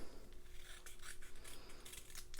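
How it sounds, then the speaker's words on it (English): Scissors snip and slide through paper close up, cutting corner to corner for a candy treat box, a series of quick crisp cuts over a faint hum. "I'm going to take my scissors and I'm going to cut from this corner right here down to this corner"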